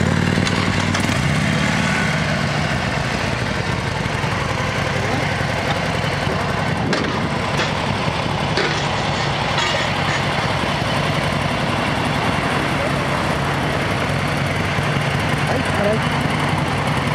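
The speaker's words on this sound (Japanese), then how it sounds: "エンジン音聞かして" A Harley-Davidson Sportster 1200C motorcycle engine idles with a steady, rumbling throb that holds for the whole stretch, close and loud, with a brief voice in the background.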